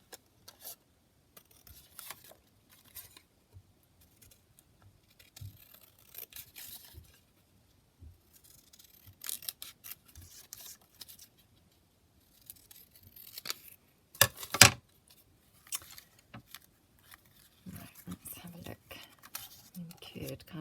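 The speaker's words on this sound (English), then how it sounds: "So I'll just cut this piece out." Scissors snipping out a paper piece for a folding booklet-style craft tag, giving soft, quiet, intermittent cuts and rustles at close range, with faint low talking around them.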